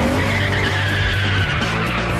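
A Japanese drag racing car skids with a loud, steady tire screech over a droning engine, continuous and close for about two seconds.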